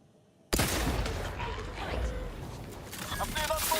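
A sudden burst of gunfire in the video game The Outer Worlds 2, starting abruptly after a quiet moment and continuing as a dense, noisy volley of shots with a faint voice underneath.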